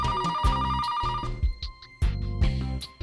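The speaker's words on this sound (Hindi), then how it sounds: "मैं कब से ब्रिज को फोन करने की कोशिश कर रहा हूं, और ये फोन भी ना लग गया।" A telephone rings on an outgoing call in a repeating trilling pattern, with bursts of bright ringing separated by short gaps, clear and fairly close with no talking over it.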